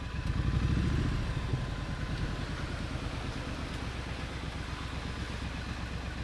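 Several cars and motorcycles idle and roll up at a fuel station, a steady mix of engine rumble and clatter that is loudest early on and then settles into a continuous near background.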